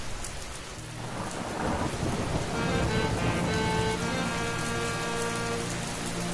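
Heavy monsoon rain pouring down around a market, a dense continuous roar of drops on surfaces with low rumbling thunder beneath, loud and unbroken throughout.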